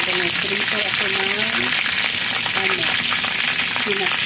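Fish sizzles and spatters steadily in hot oil in a frying pan, a dense close crackle throughout, with a voice talking over it.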